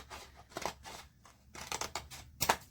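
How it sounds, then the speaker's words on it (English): Several snips of poor-quality scissors cutting along a line for a cotton shirt sublimation project, in irregular bursts of crisp close-up crunching separated by quiet pauses. "I probably got the worst scissors to cut this"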